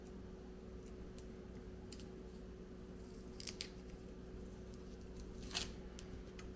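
Papery outer skin peeled off a sprouting onion gives a few faint, brief crackles over a quiet, humming background.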